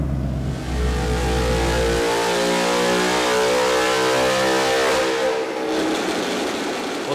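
A 2019 Mustang GT V8 with long tube headers runs on a dyno, its loud, rough exhaust rising in pitch as it revs hard and then holding a sustained high-rpm roar.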